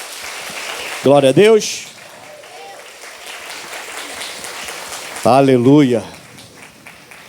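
A church congregation claps through a worship service, a steady wash of applause running under loud voices that call out praise over it twice.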